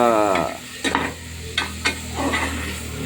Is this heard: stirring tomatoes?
yes